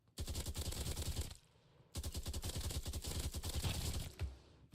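An AK rifle fires in a video game: two long bursts of rapid automatic gunfire, loud and close, split by a short pause.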